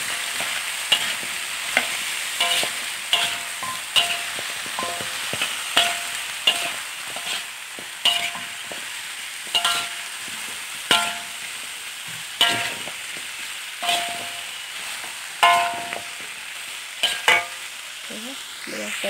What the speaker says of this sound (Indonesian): Lepas tu masukkan nangka yang dah dipotong dan dibasuh.